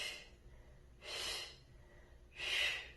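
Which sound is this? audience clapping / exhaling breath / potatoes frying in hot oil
exhaling breath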